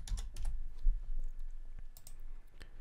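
A computer keyboard is typed on in short bursts of quiet, crisp key clicks with brief pauses between, close to the microphone, no talking.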